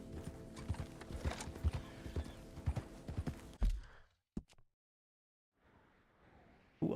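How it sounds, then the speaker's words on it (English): Horse hooves clip-clop in a steady rhythm across open ground in a video game, fairly close, then fading into near silence before faint ambience returns. "There's another horse."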